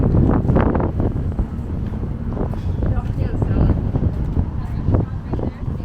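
Breezy wind gusting through downtown Saskatoon, a steady low rumble of wind buffeting the microphone across the whole stretch with a few bumps and some traffic-like background.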